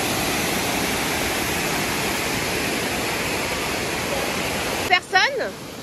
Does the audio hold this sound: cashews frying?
no